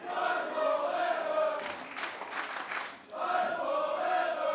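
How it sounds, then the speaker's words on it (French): A French wrestling crowd at an APC Catch show cheers and chants, rhythmic crowd voices rising and falling, with a louder burst of shouting and applause in the middle before the chanting resumes. "Et le public qui veut pas s'arrêter."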